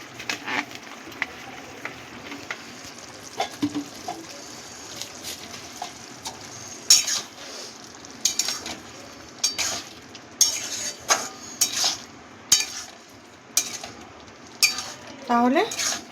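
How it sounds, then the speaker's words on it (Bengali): A utensil stirs chunks of elephant foot yam with raw mustard oil in a pan, scraping and clinking irregularly against the metal over a faint sizzle, with the clatter growing louder and busier toward the end. "এবার এটাকে ভালো করে মিশিয়ে দেব।"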